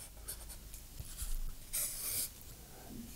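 Caran d'Ache Luminance colored pencils scratching and rubbing across Hahnemuhle plain sketchbook paper, a steady close, soft scratchy drawing sound with a few brighter strokes, no talking.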